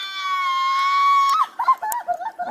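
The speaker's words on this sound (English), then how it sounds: "Whenever you're done yelling." A person gives a long, loud, sustained high-pitched scream at close range during an arrest, then breaks into shorter broken cries.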